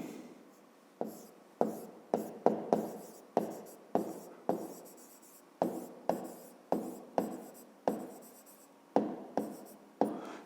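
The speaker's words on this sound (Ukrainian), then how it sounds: "Пишемо, отже, різносторонній." Handwriting on paper for a fifth-grade geometry exercise on triangles, a quick series of short scratchy pen strokes in bursts with brief pauses, close and quiet, no talk.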